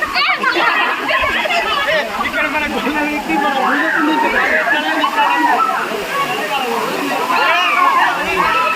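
Rushing water from Bheemunipadam waterfall in Telangana forms a steady roar beneath lively, continuous chatter of visitors talking nearby.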